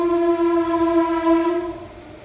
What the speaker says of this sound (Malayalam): വണ്ടി പോകുന്നത് റെയിൽവേൻ്റെ അടുത്താണ് ഞങ്ങളുടെ വീട്